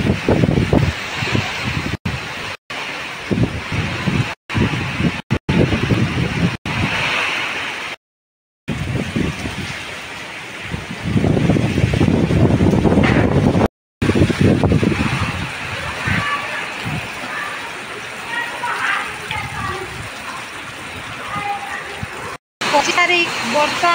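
Strong cyclone wind blows steadily and loudly around a house, with gusty roaring and sloshing water-like rushes, broken by several brief dropouts; a voice talks over it at times.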